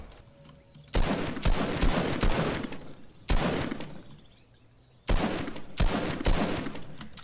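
Loud bursts of automatic assault rifle fire from a video game, three sustained volleys of rapid shots separated by short quieter gaps, with no talking.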